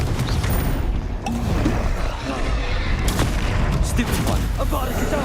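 Confringo fire-blast spell explosions in Hogwarts Legacy, a dense, continuous roar of booming impacts and crackling blasts running through the whole stretch, loud and close with game effects layered on top.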